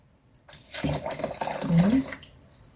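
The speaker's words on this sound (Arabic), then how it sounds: "ميه مغليه." Boiling water poured into eggless chocolate cake batter, a short splashing pour heard close while someone talks over it.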